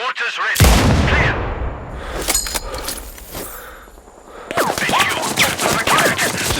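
Heavy mortar fire in Sniper Ghost Warrior Contracts 2 opens with a loud booming blast, followed by scattered sharp impacts and crackling shots. A rumbling barrage then swells again near the end, with no speech.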